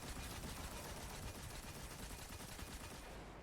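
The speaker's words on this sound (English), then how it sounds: "And then this is where we use our machine gun." Rapid, continuous machine gun fire from the video game Destiny during an Arc Warlock run through the Chamber of Starlight lost sector, a dense, steady rattle of shots lasting throughout at close, loud level with no talking.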